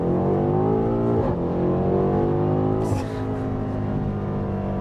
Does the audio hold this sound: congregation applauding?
no